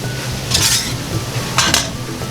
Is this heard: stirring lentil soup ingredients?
yes